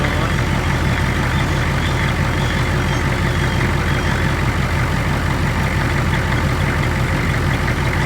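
A 1983 Ford 6.9 diesel engine idles while running on ketchup, a loud, steady low rumble with an even, fast clatter that holds unbroken throughout.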